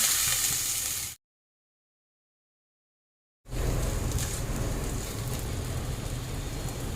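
Onion and green chilli frying in oil for chicken curry, a dense close sizzle that cuts off into about two seconds of silence before the hissing resumes steadily, no talk.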